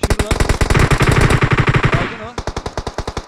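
Automatic fire in PUBG Mobile rattles out as a fast, evenly spaced stream of loud, close shots, pausing only briefly before the rhythm resumes, with a voice faintly underneath.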